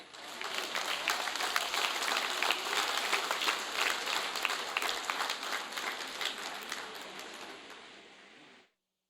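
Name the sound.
audience applause at ceremony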